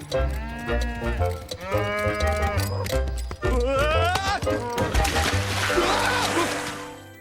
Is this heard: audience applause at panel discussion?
no